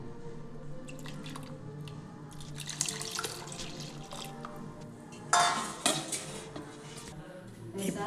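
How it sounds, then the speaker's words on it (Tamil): Water is poured into a pot of Nagercoil-style fish curry in a home kitchen: quiet dripping and faint clinks of utensils, then a louder splashing pour midway before settling back to soft trickles. "அதை மிளகுக்கு ஏற்ற அளவுக்கு தண்ணி ஊற்றிக்கலாம்"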